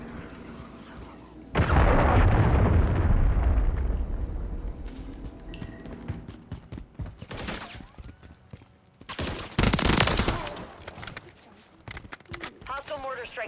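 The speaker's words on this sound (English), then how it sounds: "Hostiles launched a cruise missile." A cruise missile strike in the video game Modern Warfare 3 erupts into a loud, booming explosion, followed by a scattered fusillade of gunfire and further blasts, with a second heavy burst later and in-game voices in between.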